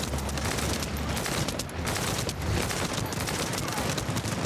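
Dense, continuous automatic gunfire rattles without a break in the video game The First Descendant, a loud, layered barrage of overlapping shots.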